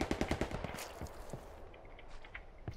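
Rapid bursts of automatic gunfire from the WWII shooter game Hell Let Loose crackle in a quick volley at the start, then thin out into scattered, more distant shots and faint battlefield noise.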